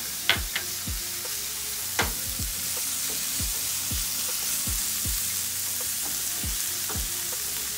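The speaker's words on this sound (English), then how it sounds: "Sauteing all this down." Sweet grape tomatoes sauté in a pan, giving a continuous loud sizzle and hiss with a steady series of soft low knocks and scrapes from stirring throughout.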